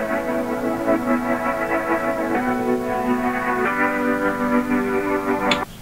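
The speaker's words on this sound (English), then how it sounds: "a detuned sample piano or a lo-fi kind of sounding piano" A warbly, slightly out-of-tune piano plays sustained chords with a hazy, lo-fi character, changing chords every second or so with no talking.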